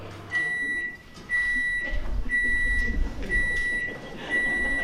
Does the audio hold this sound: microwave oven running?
yes